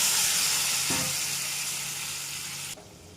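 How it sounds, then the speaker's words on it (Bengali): Mustard paste water hits spices fried with turmeric and salt in a pan, setting off a loud, continuous sizzle, with a brief splashing burst about a second in, then the sizzle slowly softens and stops abruptly. "এবার পেস্ট করা জলটা দিয়ে দিলাম সর্ষের।"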